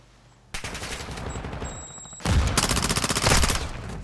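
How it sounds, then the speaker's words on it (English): Close, loud bursts of automatic gunfire in Call of Duty, a short volley followed by a longer, heavier sustained burst of rapid shots. "I shot him through the wall for you"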